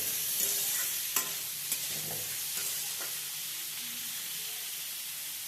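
Green chillies and garlic frying in a pan, a loud continuous crackling sizzle close up, with a few light spatula taps early on; no voices.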